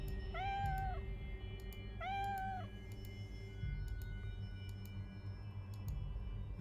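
Two clear cat meows in the video game Hero U, each a short rising-falling cry about a second apart, over a low background hum with faint ticking clicks.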